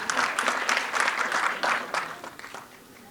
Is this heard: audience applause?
yes